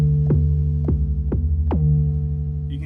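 An Ableton Wavetable synth plays 808 bass notes fast, giving four quick punchy hits in a row. Each one drops sharply in pitch, and the booming tails overlap into a continuous low drone.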